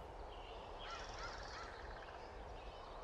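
Birds calling in the video game Firewatch, faint gobbling, honking calls over a steady background hiss.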